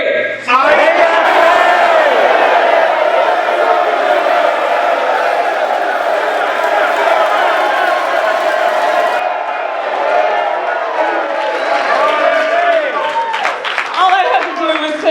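Convention crowd of union members at a labor federation gathering, loud and sustained shouting of many voices at once, mixed yelling and cheering that rises and swells throughout, with whoops near the end.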